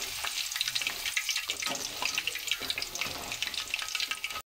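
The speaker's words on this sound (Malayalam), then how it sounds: "പച്ചമുളകും മൂപ്പിച്ചെടുക്കാം." Garlic and green chillies frying in hot oil for a homemade mixture snack, a steady crackling sizzle with bright spitting bursts throughout, close and fairly loud, with no talking.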